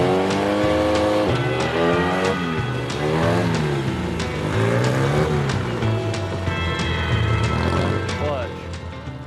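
A Fiat drag car launches with the engine floored. The loud, close exhaust note climbs through repeated high revs, with the valves floating, and shifts pitch in several sweeping rises across the run.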